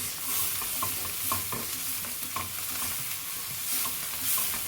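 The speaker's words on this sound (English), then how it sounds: "So we want to fry it for about 5 minutes before we add in everything else." Seafood noodle ingredients for Indomie instant noodles frying in a pan, a steady close sizzle with soft rhythmic stirring scrapes and no talking.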